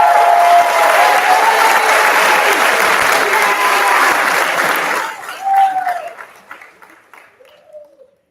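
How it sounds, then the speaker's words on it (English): Crowd applause for graduating nurses at a pinning ceremony, loud sustained clapping from a large audience that fades out over the last few seconds, with a few scattered claps trailing off. "And for that, I commend you. A round of applause,"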